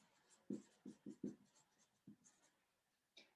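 Writing on a board during a cell biology lecture, faint scattered taps and short strokes, about six soft knocks in quick succession then a couple more, quiet and close.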